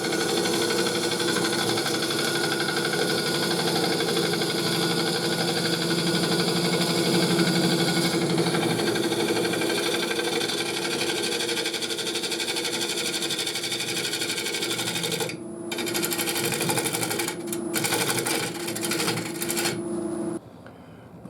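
Wood lathe turning a misshapen workpiece while a cutting tool works it, a continuous motor hum with steady tonal whir and scraping, briefly interrupted near the end.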